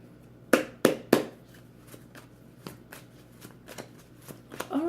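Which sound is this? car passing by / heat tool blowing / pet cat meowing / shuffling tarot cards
shuffling tarot cards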